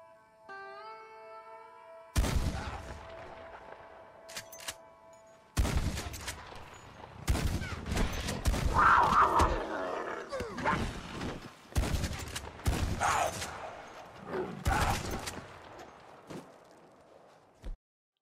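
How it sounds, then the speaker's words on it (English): Gunfire in Red Dead Redemption 2 during a legendary cougar hunt: several loud, sharp shots spaced irregularly, with rustling, movement and game effects between them. "John takes a few shots"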